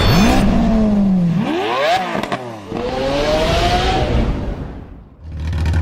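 Suzuki SRAD 1000 motorcycle fitted with a straight exhaust, its loud, close engine revving up and down in several rising and falling sweeps before briefly easing off near the end.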